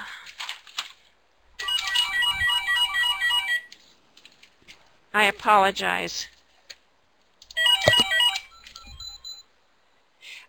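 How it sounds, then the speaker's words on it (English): A mobile phone ringtone goes off during an online open forum meeting, with repeated electronic melodic bursts separated by gaps. A voice briefly speaks between the rings. "I'm sorry about the phone."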